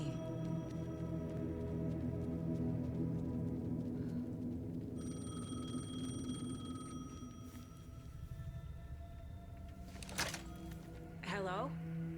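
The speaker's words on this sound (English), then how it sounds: "The payphone was ringing." A payphone rings in the video game Alan Wake 2, its tones sitting over a steady low droning game ambience, with a brief sharp ringing burst near the end.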